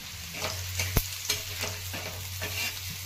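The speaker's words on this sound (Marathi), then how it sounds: "आणि बोंबील पण परतून घेते यामध्ये." Bombay duck fish sizzles in a hot pan with salt and garlic chutney, a steady frying hiss broken by a few spoon-stirring scrapes, close up and with no voices.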